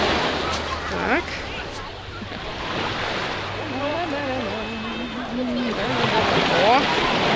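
Sea surf washes steadily onto a beach where people are swimming, a continuous rushing backdrop with some wind buffeting, while voices talk over it at times.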